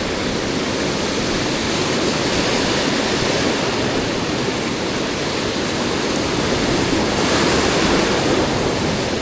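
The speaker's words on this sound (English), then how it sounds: "this 300 wave power really gives you a good idea of how high and how hard the waves push up the beach" Ocean waves surge hard and high up a beach while surf perch fishing. A continuous, loud roar of crashing surf and wash fills the whole stretch with steady hiss, swelling slightly near the end, and no voices are heard.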